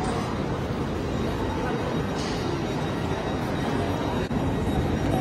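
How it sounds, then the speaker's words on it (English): Steady, loud rumble of a train running at a busy Swiss station at Luzern, a broad continuous roar that stays even throughout, with no clear speech. "I'm now on a connecting train to Engelberg"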